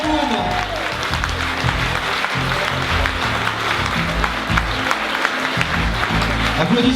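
Audience applause greets the singer at a radio showcase, a steady dense wash of clapping from a live crowd, with music and voices sounding underneath throughout.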